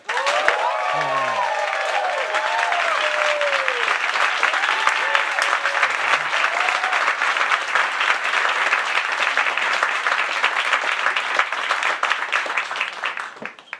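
A large audience applauds and cheers at the start of a live 2023 debate on wokeness in comedy, a dense, steady roar of clapping that holds loud for the whole stretch, with a few voices and whoops rising above it near the beginning.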